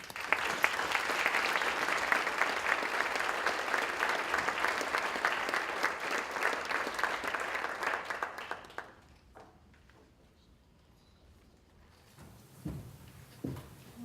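An audience at a liberal arts conference claps steadily in a sustained round of applause welcoming a speaker to the stage, fading out to near quiet with a few faint shuffles and thumps afterward.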